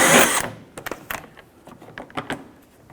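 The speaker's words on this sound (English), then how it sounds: "Using a 10mm socket, we're going to go ahead and remove our license plate bracket." Screws and a license plate bracket being taken off the front of a 2012-2017 Toyota Camry with a 10mm socket, a loud burst of rattling followed by a series of short clicks and taps, close by with no talk.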